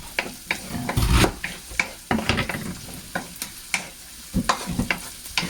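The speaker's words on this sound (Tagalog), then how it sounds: "Yan, halu-haluin lang natin." Fried pork skin chicharon stirred in a pan for Batangas lomi: a spatula scrapes and knocks in irregular strokes over a steady sizzle of frying, close and clear, with no talking.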